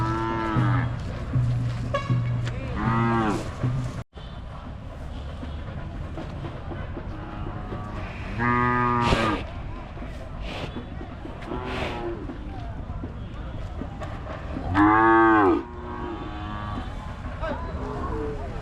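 Cattle at the historic Magadi cattle fair give several loud, drawn-out moos spread through the scene, heard over busy outdoor crowd noise and nearby conversation.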